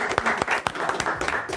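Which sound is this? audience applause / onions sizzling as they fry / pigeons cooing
audience applause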